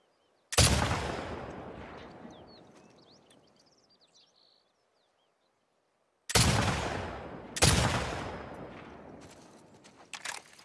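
Gunfire in The Last of Us Part II: a loud sharp shot rings out and decays for several seconds, followed later by two more heavy reports in quick succession and a faint crack at the end, with no talking.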